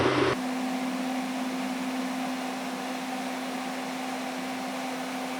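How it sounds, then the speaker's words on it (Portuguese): A blast chiller from a professional kitchen line runs its fan in defrost mode with the door open, giving a steady, loud whooshing hum with a constant low tone that starts abruptly and continues unchanged. "Aí ele vai ligar o ventilador com a porta aberta e vai jogar todo esse frio para fora."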